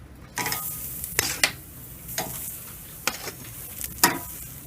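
Squash pieces laid on a hot Akorn Kamado grill give a steady close sizzle, broken by several short clattering knocks from the grate and tongs.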